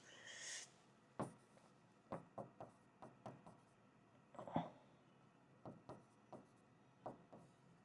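Chalk or pen writing out a math integral on a board or paper: a series of short, sharp taps and scratches in an uneven rhythm, close and fairly faint, with no talking.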